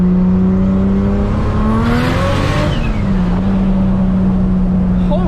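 Toyota Supra fitted with a bigger turbo accelerating hard in third gear: a loud, close engine drone that climbs steadily in pitch, briefly dips at a shift-like break, then holds a strong steady roar.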